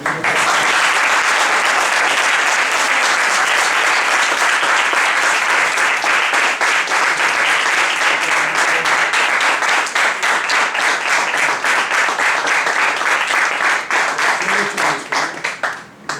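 Sustained, loud applause fills a university debate hall, dense clapping from a large audience that holds steady for a long stretch before tapering off at the end.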